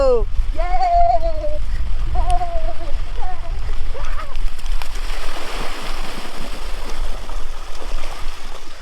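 Water splashing and sloshing around a bather at Mousuni island in cold weather, continuous and close, with voices and a few sung or called-out tones over it.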